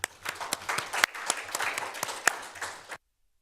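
Student senate members clap in a meeting room after approving a bill, a small group giving scattered, uneven claps with distinct individual hand strikes, close and brief before stopping abruptly into silence.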